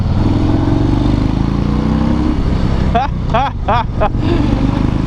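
A Harley-Davidson FXDR 114 motorcycle accelerates hard, its loud close engine rumble droning throughout with a brief, choppy interruption partway through before the roar resumes.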